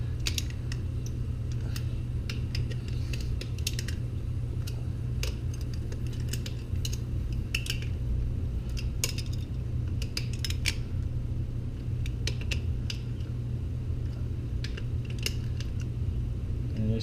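Wrenches tightening bolts on an aluminum bicycle frame during a regear, light metallic clicks and ratcheting ticks scattered over a steady low hum, close by and continuous, no talk.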